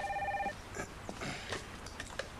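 A telephone rings in a television drama scene, a short trilling ring at the start that stops after about half a second, followed by quiet shuffling and handling sounds as the receiver is picked up.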